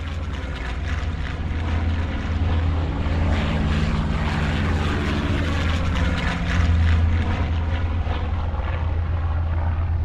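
Military aircraft of the Nationalist air force pressing an attack on entrenched Republican soldiers on the plains near Brunete in 1937: a loud, continuous propeller-engine drone with a deep low hum that swells slightly midway, steady throughout without voices.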